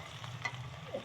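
Kalai greens fry with onion and garlic in a pan, giving a brief, faint sizzle and scraping stirs close by with no talking.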